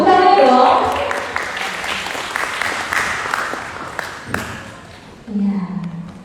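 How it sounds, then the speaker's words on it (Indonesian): An audience at a music workshop on panting claps for a newly introduced guest, loud at first and then thinning into a looser patter, before a voice starts speaking near the end. "Tepuk tangan dong"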